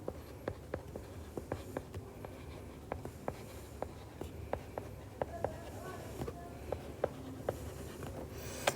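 Pen writing by hand on paper during a 9th-class mathematics lesson, faint rhythmic scratches and taps repeating steadily, with quiet speech in the background.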